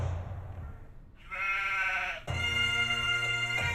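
A sheep bleats loudly and nearby in an open rural field, a long wavering bleat followed by a second sustained bleat, alone without talk.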